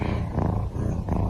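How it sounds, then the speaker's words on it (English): A low, continuous rumbling purr, close and steady, pulsing gently with each breath. "Still just purring away."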